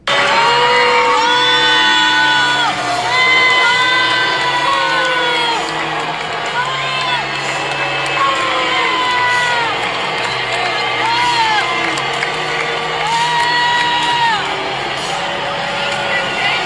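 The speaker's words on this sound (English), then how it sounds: "New footage has just been released of Donald Trump getting booed at the World Cup final." Huge stadium crowd at a World Cup final booing Donald Trump, a dense sustained roar of jeers, whistles and shouts rising and falling throughout, loud and close, with voices mixed in.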